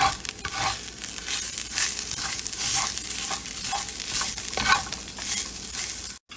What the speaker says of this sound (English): Now mix it all up.